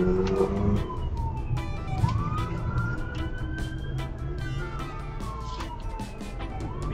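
A wailing emergency siren from an ambulance passing along the road between Portmore and Spanish Town, its pitch sweeping up and down continuously over steady traffic noise, fairly distant and unbroken.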